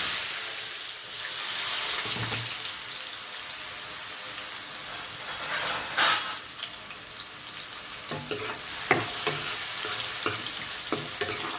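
Sliced onions fry steadily in hot oil for a chicken fry, a continuous broad sizzle with occasional spoon scrapes and taps against the pan.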